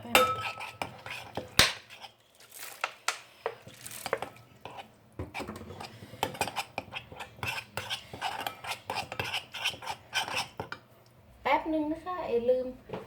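A utensil stirring a Thai spicy winged bean and fresh shrimp salad dressed with fish sauce in a bowl, giving irregular close clinks and scrapes while someone talks.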